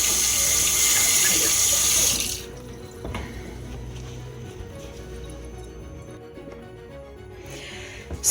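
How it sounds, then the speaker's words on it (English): Tap water runs loud and steady in a kitchen sink while hands are washed during turkey preparation. The flow stops after about two seconds, leaving quiet handling noises and faint clatter, and a brief splash returns at the end. "I just continually keep washing my hands during this process"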